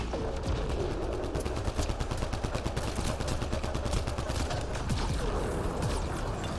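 Rapid bursts of automatic gunfire crackle steadily in a Mass Effect Andromeda multiplayer match, dense rattling shots continuing without pause at moderate loudness.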